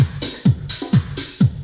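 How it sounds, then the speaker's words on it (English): A processed Latin house drum groove with the low end cut by EQ: punchy kicks on a steady beat with crisp offbeat hats and percussion, looping cleanly and loud, with no voices. "So altogether, the drums sound like this."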